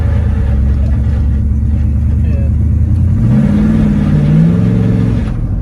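A 1967 Pontiac GTO's engine revs and pulls through acceleration with its secondaries slow to kick in; a steady loud rumble climbs in pitch partway through and holds strong to the end.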